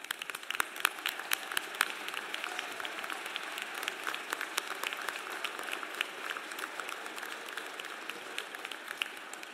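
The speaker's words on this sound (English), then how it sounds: "Please rise for a round of applause." Sustained applause fills a graduation commencement ceremony at Alvernia University, a dense, even patter of many hands clapping at moderate distance for nearly ten seconds without a break.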